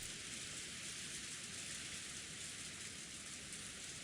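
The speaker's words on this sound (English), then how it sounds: "It must be the sound of rain." Steady, hissing rainfall from the visual novel Umineko When They Cry, dense and even throughout with no pauses, fairly faint and heard alone.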